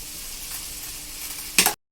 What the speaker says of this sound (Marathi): भाज्या फ्राय झाल्या आहेत। आता आपण थोडं मीठ टाकूया। आपण नूडल्स टाकूया।